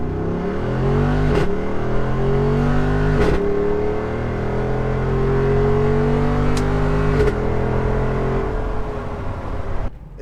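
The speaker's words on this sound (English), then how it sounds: "you nail the gas when it's shifting up first, second, third, sometimes third into fourth, you'll get those braps" A Jeep Wrangler 392 V8 accelerates hard through first, second and third gears, its loud, close exhaust roaring and climbing, with a sharp brap at each of three upshifts.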